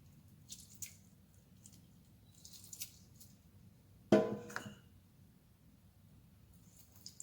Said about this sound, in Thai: บีบมะนาวลงไปนะคะ